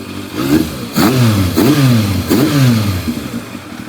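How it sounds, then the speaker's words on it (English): Motorcycle engine revved during carburettor synchronisation, three or four quick loud rises in pitch that fall back to a steady close idle between blips. "Just give it a minute, give it a rev."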